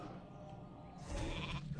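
A sheep bleats in a World of Warcraft Classic game, a short nasal cry that rises out of quiet background game ambience toward the end.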